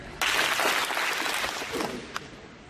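An audience at a clinic claps together in a short burst of applause that swells, then thins out to a few scattered claps near the end.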